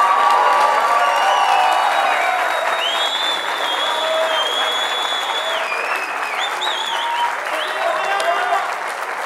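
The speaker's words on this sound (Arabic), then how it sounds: "هذا تصفيق العلال ابراهيم القديم" Loud sustained applause mixed with cheering, whoops and excited shouting from a lively audience at a comedy show, with voices calling out over the clapping throughout.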